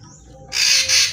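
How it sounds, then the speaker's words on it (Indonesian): A single loud, close bird call from a tame zebra dove (perkutut), a bright burst that begins partway through after a quiet start, with no talking. "Ini termasuk burung yang paling jinak perkututnya"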